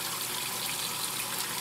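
Water pours steadily into a 1960s washing machine, a continuous close rushing and splashing with no voices.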